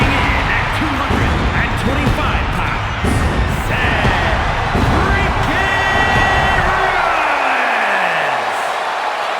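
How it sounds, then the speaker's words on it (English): Wrestling arena crowd roaring and cheering for Seth Rollins at a WWE Monday Night Raw event, a loud sustained wall of whoops and yells with a commentator talking over it. "Seth Rollins is here and the crowd is freaking out"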